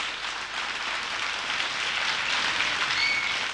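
An audience at a Mangala Gaur gathering in Sangli applauds as Amruta Subhash comes on stage, a soft, even wash of many hands clapping at a distance.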